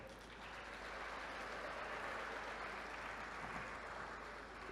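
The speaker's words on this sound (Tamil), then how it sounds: "உங்களை பத்தி பேச மட்டும் தான் நீங்க கைத்தட்டுவீங்க" Students in a Coimbatore audience break into a steady, dense wash of clapping at a public government programme event, sustained and even for several seconds, heard from a distance.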